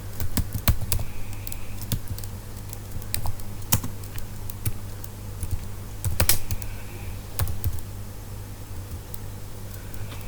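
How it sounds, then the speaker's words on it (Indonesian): Computer keyboard typing, a steady stream of close, crisp key clicks in uneven bursts with brief pauses over a faint hum, no voices. "Nanti tinggal diketik di sini ya, teman-teman."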